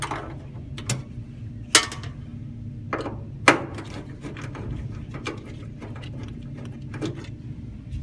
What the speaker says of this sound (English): you're going to have these screws right here. You're going to go ahead and loosen them up.